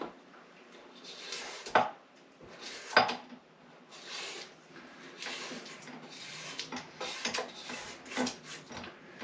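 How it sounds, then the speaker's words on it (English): Spatula scraping the sides of a mixing bowl of gingerbread cookie dough, a run of soft, close scraping strokes with a few sharper clinks against the bowl, no talking. "I just want to scrape the sides down"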